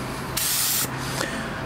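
Spray gun laying a very light first coat of clear on a 1938 Chevy, heard as a loud steady hiss for about half a second that then stops, with a fainter, shorter hiss following.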